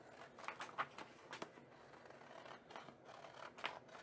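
Scissors cut around the edge of a paper wrapper for unicorn party decor, quiet close crisp snips in an uneven series.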